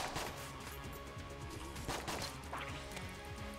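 Gunfire in the Enter the Gungeon video game, a dense burst of repeated sharp shots and impacts layered over game music, loud and continuous across the stretch.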